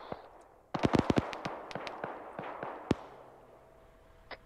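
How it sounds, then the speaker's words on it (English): Gunfire in a military shooter video game: a rapid burst of sharp cracking shots, then scattered single reports spaced out, with a final distant pop, set against a quiet background. "Some shots going across."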